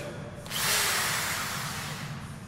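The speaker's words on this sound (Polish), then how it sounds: "Pan Bolo, ma swoją wiertarkę." An electric drill whirs into a steady, loud high-pitched grind that starts abruptly and holds for about two seconds, with a faint background hum.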